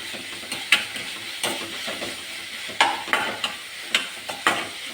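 Breadfruit pieces being stirred and mixed in a pan for mezhukkupuratti, a spatula scraping and tapping the pan in irregular strokes over a faint, steady sizzle.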